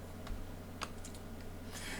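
Light typing on a computer keyboard while entering a word in a Microsoft Word document, a few soft scattered key clicks over a steady background hum.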